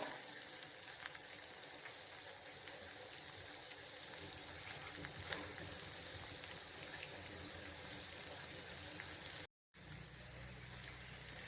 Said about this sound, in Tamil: இதை நல்லா வதக்கிக்கிடுவோம். கொஞ்சம் மீடியம் ஃப்ளேமில் வச்சு குக் பண்ணுங்கள்.